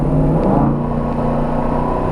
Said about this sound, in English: Let's see what happens when I give it a little throttle.